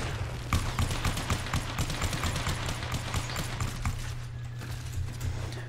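Rapid pistol fire in the video game Warframe, a quick run of crackling shots repeating in a steady rhythm over a constant low game hum, fairly soft overall.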